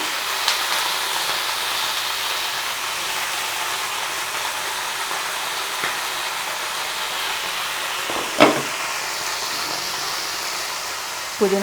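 Mint and coriander leaves frying in oil with cumin in a pan, a steady, even sizzling hiss that runs throughout, with an occasional louder crackle or clink.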